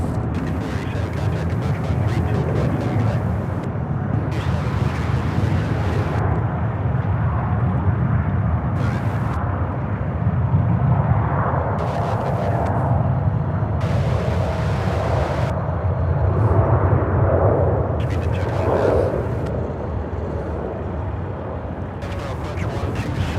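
An airliner taking off at Charlotte-Douglas airport, its engines a loud, broad roar that swells and holds, with bursts of wind buffeting the microphone.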